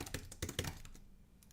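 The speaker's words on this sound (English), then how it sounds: "I'm going to type it out for you." Fingers type on a computer keyboard, a quiet run of a handful of soft, uneven keystroke clicks up close that tapers into near silence, without speech.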